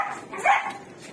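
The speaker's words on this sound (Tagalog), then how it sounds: "So, ito yung mga aso rito." A single short dog bark, close and moderately loud, amid quiet background.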